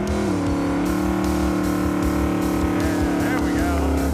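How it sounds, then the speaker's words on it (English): A Dodge Challenger TA's engine drones loud and steady as the car approaches, with a low rumbling exhaust note that holds throughout, voices talking over it. "here comes the Challenger TA"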